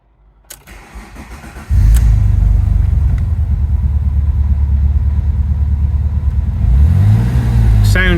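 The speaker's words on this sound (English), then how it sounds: "Yeah, the idle's fairly smooth." An Alfa Romeo GT V6 engine turns over and settles into a steady, smooth low idle, loud and close, with a slight rise in rumble near the end.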